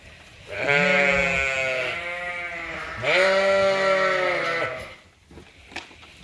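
Sheep bleat loudly inside a barn, two long wavering calls one after another, close to the listener, followed by quieter shuffling.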